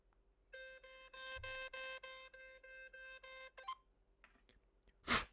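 A buzzy, steady electronic water-eject tone plays from a wet iPhone speaker in pulsing bursts, then a few short blips and a sudden puff of air.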